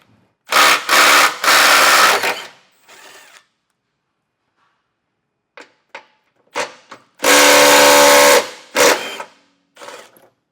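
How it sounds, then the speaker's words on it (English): A 17mm socket tool loosening bolts on a 2025 Subaru Ascent during a trailer hitch install, loud whirring bursts of a powered driver in several separate runs with short clicks between, close and free of talk. "I'm going to take my 17mm socket and remove all 4 of these bolts."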